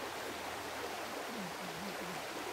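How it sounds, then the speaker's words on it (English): Fern Creek flows down from the mountain with a steady, close rush of water, a constant broadband roar with no pauses and a faint voice-like murmur partway through. "Fern Creek, which joins, actually, I guess it is the creek we've been walking beside. It's just coming down from the mountain there."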